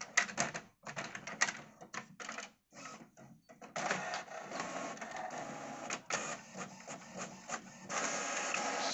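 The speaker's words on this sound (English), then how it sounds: "I've used my Spectrum Next to print out directly to my modern HP printer." A modern HP Wi-Fi printer prints a document sent from a ZX Spectrum Next. Close, clattering mechanical bursts of the print head and paper feed come in uneven runs with short pauses between them. No one speaks.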